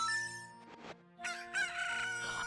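The Cuckoo rooster crowing in The Legend of Zelda: Ocarina of Time, a close, loud game cock-a-doodle-doo in two bright bursts with a short gap between them, heard alone.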